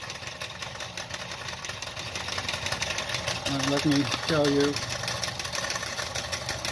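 A Wilesco D141 toy steam engine, custom-built and geared to a workshop model, runs with a steady rattling mechanical chatter and throws sparks, close and loud, while a person talks over it.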